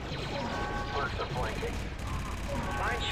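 Rapid heavy blaster fire in the Star Wars Republic Commando video game rattles continuously and loudly, mixed with game effects and a voice talking.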